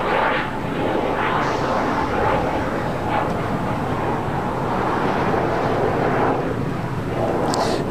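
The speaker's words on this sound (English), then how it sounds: "American Airlines flight 2660. Heading to Reagan National. It's an A321neo." American Airlines Airbus A321neo taking off from the south side runways at LAX, a continuous broad jet roar at moderate distance with some wind noise.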